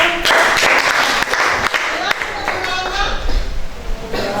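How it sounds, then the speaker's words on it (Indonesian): A classroom of students breaks into applause, a dense burst of clapping for about two seconds that thins out as a teacher's voice and scattered claps follow. "Oke, bagus. Tepuk tangan."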